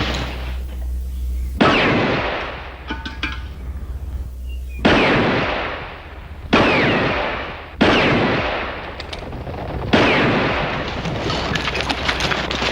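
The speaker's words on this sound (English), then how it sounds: "That's pretty good shooting there, Denver." Target shooting on a Western ranch set, with five loud separate gunshots spaced a second or more apart, each ringing out and decaying, and no talk.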